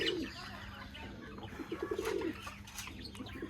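Pigeons, a newly bought pair of pouters among them, give faint low coos and soft chirps against a steady background hum, with a brief flutter partway through and no speech.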